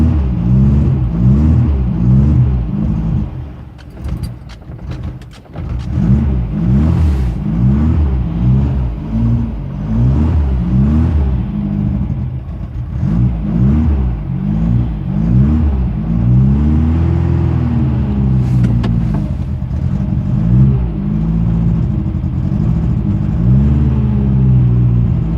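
A 1974 Porsche 914 engine catches from a cold start with no choke, then revs repeatedly in loud, rising and falling bursts, close by, running rough and rumbling throughout.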